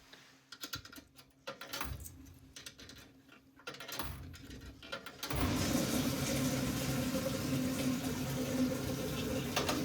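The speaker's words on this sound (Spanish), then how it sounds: "ahora voy a poner una lavadora que cuesta 300 yenes" A coin-operated washing machine in a Tokyo laundromat: a stretch of clicks, clatter and mechanical rattling gives way midway to a loud, steady rushing whir as the machine gets going.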